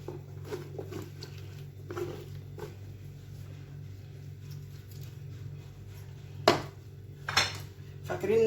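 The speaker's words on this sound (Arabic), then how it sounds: "ونبتدي نقلب كله مع بعضه كده." Ingredients for a mackerel tray being stirred together, soft scraping and patter of a utensil against a dish, with a couple of louder metallic knocks near the end over a low steady hum.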